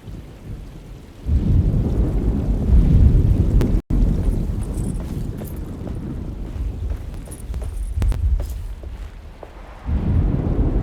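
Thunderstorm in the video game Alone in the Dark: steady rain and wind with deep rumbling thunder swelling and fading across the scene, a brief cut near the middle, no voices.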